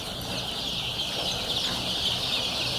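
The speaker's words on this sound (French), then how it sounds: "Un tour derrière la concession et des cris de volaille vous accueillent." Chickens of local and improved breeds cluck and squawk continuously in a busy flock, with steady poultry chatter close by.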